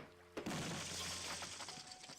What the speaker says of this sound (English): Smash the wall, grab the thing.